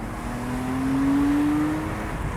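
A 2011 Porsche Boxster Spyder's 3.4-liter engine revs up in a single smooth rising pull, steady and fairly close, with no voices.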